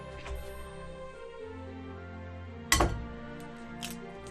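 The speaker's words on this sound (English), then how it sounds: "then we crack the first egg in" A single sharp crack of an egg, close and fairly loud, against a bowl of light, fluffy cupcake batter, with a second fainter tap shortly after and quiet kitchen background around it.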